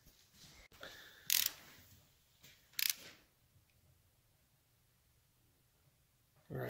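A wrench tightens transmission bolts on a 1971 Triumph Tiger 650cc motorcycle, making two short, close bursts of ratcheting clicks separated by quiet pauses, followed by a brief final rattle.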